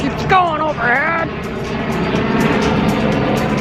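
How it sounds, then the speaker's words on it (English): A helicopter flies overhead at Disney Springs, giving a steady, fairly loud rotor and engine drone that fills the whole clip, with a few brief tonal chirps near the start. "a freaking helicopter keeps going overhead."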